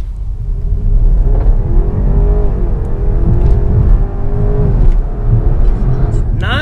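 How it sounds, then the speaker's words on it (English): A BMW accelerates hard down a straight road in a 0 to 60 run, heard from inside the cabin as a loud engine drone climbing in pitch through the gears, with occupants talking over it. "I'm gonna do a 0 to 60 run. And let's see how this thing does."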